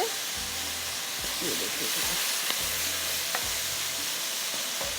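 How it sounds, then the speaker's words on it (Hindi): Minced meat (qeema) sizzles and fries in a pan while being stirred, a steady frying hiss with scraping strokes of the stirring utensil; a person speaks briefly over it. "कीमा हमारा थोड़ा सा ये भुन रहा है"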